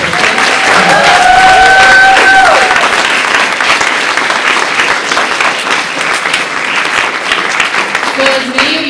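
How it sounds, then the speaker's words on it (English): A youth-run LGBT conference audience breaks into sustained, loud applause that fills the whole stretch, with some cheering and whoops mixed in and a brief voice or whistle-like tone near the start. "So can we give a round of applause for every young person?"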